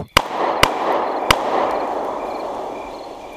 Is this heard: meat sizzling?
no